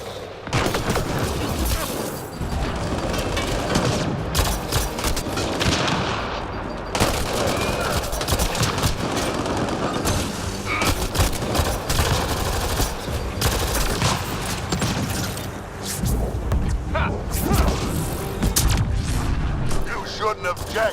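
Gunfire and explosions crackle in a combat firefight in the Mass Effect Andromeda video game, dense and sustained bursts of shots and booms with a voice talking over parts of the battle.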